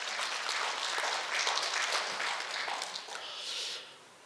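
Applause from a seated audience at a Korean lecture event: a dense, steady patter of many hands clapping at a moderate distance, swelling slightly midway and then tapering off, with no talking.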